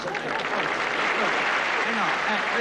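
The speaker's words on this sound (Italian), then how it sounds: "Applauso." Dense applause from a large audience at the Teatro Sistina in Rome, continuous and loud throughout, with faint voices mixed in.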